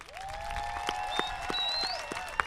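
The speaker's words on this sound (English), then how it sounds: "give them a round of applause, please." Moderate applause from the crowd at the 2025 AUHSD Alternative Education graduation for Gilbert Independent Studies, honouring parents and families, with a few sharper claps standing out over a steady wash and a faint sustained tone.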